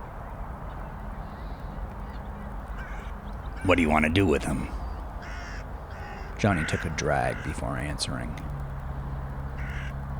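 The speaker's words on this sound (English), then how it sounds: "listening to the birds outside." Crows caw outdoors in the background, harsh calls recurring behind someone narrating in a steady voice throughout.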